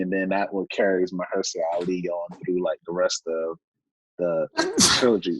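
A single loud, close sneeze bursts out near the end of a casual conversation, following a stretch of continuous talk.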